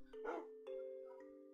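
A dog in Minecraft gives two or three short, clear barks with a tonal, synthetic quality. The barks sit fairly close over quiet background music.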